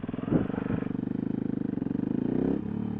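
A motorcycle engine revs hard and steadily up close, a rapid pulsing drone climbing in pitch as the rider prepares to pull a wheelie.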